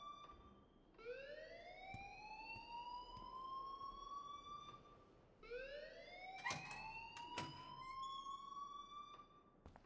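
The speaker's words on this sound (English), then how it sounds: "please turn off that alarm" School fire alarm in the video game Life is Strange, a rising electronic siren wail sweeping up twice in long cycles, moderately loud and alone with a few sharp clicks.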